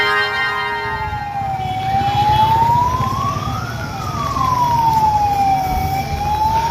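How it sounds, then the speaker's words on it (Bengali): A wailing emergency siren at a train crash site, where Kanchanjunga Express coaches were crushed near New Jalpaiguri, rises and falls slowly and loudly over a steady rumble of crowd and traffic noise. "চারিদিকে অ্যাম্বুলেন্সের সাইরেন বাজছে।"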